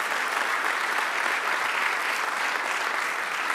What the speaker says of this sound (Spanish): dale el aplauso grande